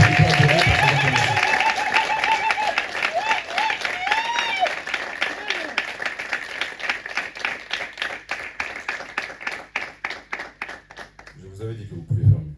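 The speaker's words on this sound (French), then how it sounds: "Est-ce que quelqu'un de libre peut adorer par ses acclamations?" Church congregation at a Sunday worship service clapping in a steady rhythmic beat, with singing and voices over the claps at first, the claps continuing alone and then tapering.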